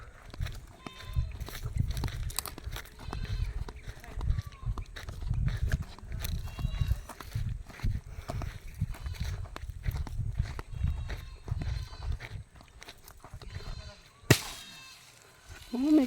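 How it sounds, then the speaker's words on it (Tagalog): Out in a dark wood-gathering area, a horse is somewhere nearby, with animal calls mixing with steady footsteps crunching over the ground and a person talking along the way. "Oh, may kabayo pa pala doon, oh."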